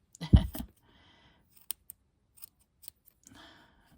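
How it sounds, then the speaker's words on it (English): A pair of not very sharp scissors snips yarn a few times while making pom-poms, each cut a short crisp click, with soft rustling in between and quiet surroundings. "Not my sharpest pair of scissors."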